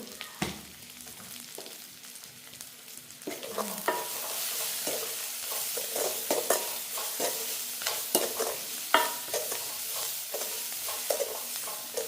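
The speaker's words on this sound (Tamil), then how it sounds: "வெங்காயம் வதங்கி கொண்டு வந்துட்டு" Salted onions sautéing in a pan, a steady low sizzle broken by frequent scraping stirs of a spoon, fairly close and moderately quiet.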